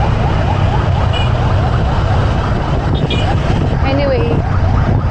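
Ambulance sirens wail through a traffic jam after a road crash, the rising and falling tones faint and partly buried under steady road and wind noise, with voices talking over them.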